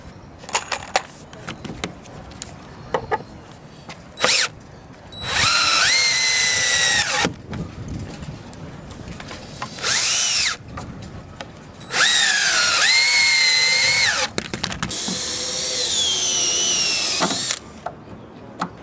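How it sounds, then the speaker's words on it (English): A power drill drives 3-inch deck screws into a wooden raft frame in several separate runs. Each run is a loud, close, rising motor whine that stops abruptly, with quiet handling noises in the gaps. "we're going to use 3-inch deck screws, and we're going to put 2 screws in the end on each of these pieces as we go down"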